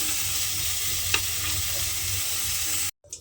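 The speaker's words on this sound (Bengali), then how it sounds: "ফুলকপিটা লাল করে প্রথমে ভালোভাবে ভেজে নেব" Cauliflower pieces frying in oil in a pan, a steady close sizzle with a brief stir clink partway through, then the sound cuts off abruptly near the end.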